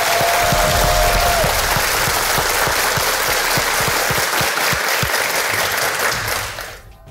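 A studio audience at a university quiz show applauds for the Kafr El Sheikh and 6 October university teams, with steady, dense clapping that fades out at the end.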